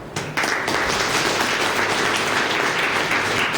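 An audience at a ceremony bursts into sustained applause, dense clapping starting abruptly after a brief quiet moment and holding steady and loud to the end.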